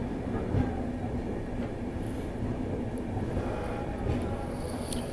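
Passenger train 19813 arrives at Kanakpura station near Jaipur, a steady rolling rumble with faint wheel clatter and occasional high squeals running the whole time, close by and with no talking.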